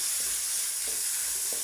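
Tomatoes sizzling in hot oil after aromatics in a pan, with a steady frying hiss and a few soft scraping stirs of a spoon at regular intervals, close and unaccompanied by talk.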